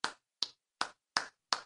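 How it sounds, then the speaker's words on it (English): A single person clapping slowly, five crisp isolated claps at an even, unhurried pace, close and dry with silence between each. "when it's one person clapping, it kind of sounds anticlimactic"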